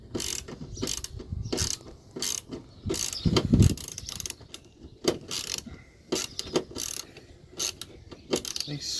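A hand ratchet works a fastener on a rare part from a Mk1 Toyota Yaris being stripped for respray, giving bursts of close, fast clicking in irregular runs.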